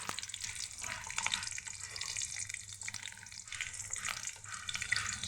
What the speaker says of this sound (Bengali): এখন আমি গরম হয়ে গেছে, এখন এর মধ্যে কেটে রাখা পেঁয়াজ কুচি দিয়ে দিচ্ছি